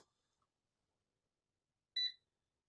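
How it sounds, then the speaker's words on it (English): A single short electronic beep from a DEC VT520 computer terminal's power-on self-test, preceded by near silence. "I heard the high voltage sound and it beeped."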